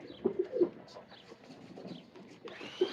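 A pigeon coos in soft, low repeated murmurs over a quiet background, with faint chirps and rustling; a rare kabootar at a pigeon show.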